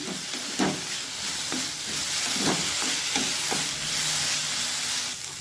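Fried chapati noodles are stirred in a hot pan, a continuous close sizzle with scraping tosses of the mixing spoon every second or so, no voices.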